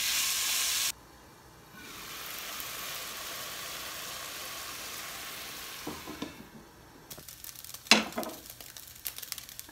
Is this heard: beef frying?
yes